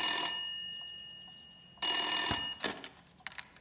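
An old telephone rings in a 1980-set film scene, two loud, close bell bursts separated by a pause, followed by faint handling clicks.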